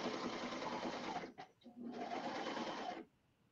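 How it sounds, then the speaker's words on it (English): Brother Airflow serger stitching outdoor home decor fabric, a fast, steady mechanical whir up close that pauses briefly mid-run, restarts, then stops near the end. "I'm going to start stitching."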